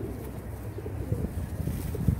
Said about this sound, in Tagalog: ito Ibon yata ito ni XMakina